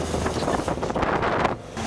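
Wind roars past the open cab of a 1942 Willys Ford GPW at about 30 mph on the road, a steady, loud broadband rush and buffeting with engine rumble underneath and no talk.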